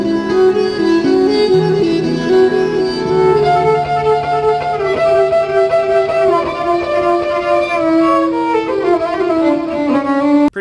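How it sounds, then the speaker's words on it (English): A guitar played with a violin bow gives sustained, smooth, singing notes that glide and overlap in a slow, drawn-out melody, loud and close. "bowed guitar is where instead of using those things, you get a bow, like from a violin"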